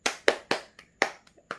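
Hands clapping in a short burst of applause, about seven sharp claps at an uneven pace, close and alone, with several louder strikes and a few softer ones between them.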